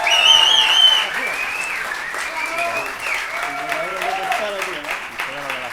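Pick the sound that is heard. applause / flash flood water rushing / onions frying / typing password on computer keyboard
applause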